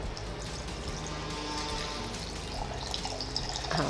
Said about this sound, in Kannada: ಸ್ವಲ್ಪ ನೀರು ಮಿಕ್ಸಿಗೆ ಹಾಕ್ಕೊಳ್ಳುವ ನಾವು